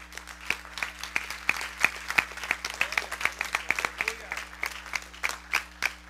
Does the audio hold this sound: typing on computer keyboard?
no